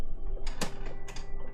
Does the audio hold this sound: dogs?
no